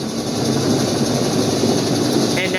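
Hovering HH-46 Sea Knight tandem-rotor helicopter in the FSX flight simulator, a steady, loud rotor and engine roar that holds evenly throughout without breaks.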